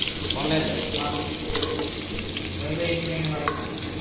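Ginger and garlic frying in hot oil with mustard seeds and cumin while cooking palak, a dense continuous sizzle with faint stirring clatter and no voices.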